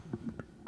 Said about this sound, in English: I know you hear me coughing